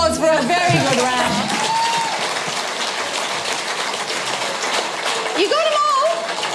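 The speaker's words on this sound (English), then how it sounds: "Round of applause for a very good round." Studio audience applause after a round on a televised rock music quiz show, a dense wash of clapping that swells at the start and continues steadily, with voices speaking over it.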